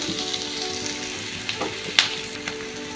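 Fresh curry leaves fry in hot oil in a pan for a Kerala-style chicken curry with coconut milk, a steady close sizzle broken by a sharp crackle and a few small pops.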